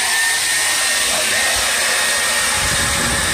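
A hair dryer runs continuously inside a Samsung refrigerator to defrost it, a loud, steady whooshing blower hum with no pauses across the short stretch.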